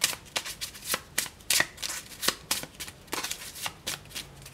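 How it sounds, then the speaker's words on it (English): A deck of treasure cards for the HeroQuest board game being shuffled by hand, a run of crisp riffling bursts and soft card slaps repeating steadily at close range with no talking. "I'm going to shuffle on camera"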